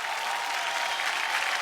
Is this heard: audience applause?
yes